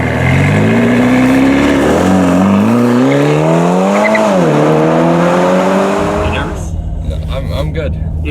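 Ferrari California T engine revving as the car accelerates, pitch climbing through the gears then easing off, loud and close from inside the cabin, with voices talking over it.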